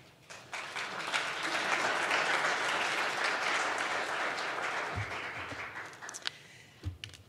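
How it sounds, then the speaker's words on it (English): Sustained audience applause at a public event presenting the Great Lakes Hyperloop feasibility study, swelling quickly, holding strong for several seconds, then thinning out into a few scattered claps and thumps. "Please join me in giving County Executive Butish and Chief McCall another round of applause for their support on this feasibility study"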